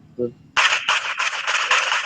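Gunfire in the mobile battle royale game PUBG Mobile: after a short voice sound, a loud burst of rapid automatic shots breaks out and keeps rattling steadily to the end.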